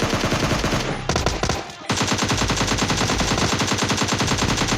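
Rapid automatic gunfire from the mobile shooter game PUBG Mobile Lite rattles loud and close in a dense continuous stream, breaking off briefly near the start before resuming.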